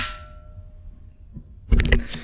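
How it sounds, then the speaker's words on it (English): A custom Glock 19 trigger resets and is pulled, heard with the frame held against the microphone. A quiet click comes first, then a louder sharp metallic clank, both close and alone. "That's a reset, and here's the trigger pull."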